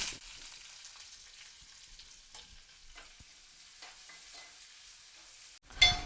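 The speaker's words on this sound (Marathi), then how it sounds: "तेल गरम झाल्यानंतर यामध्ये घालायचे आहे लसूण दोन हिरव्या मिरच्या यामध्ये घालूयात कांदा" Garlic, two green chillies and onion hit hot oil for a Marathi dudhi bhopla bhaji, giving a steady close sizzle with stirring scrapes and a louder burst near the end.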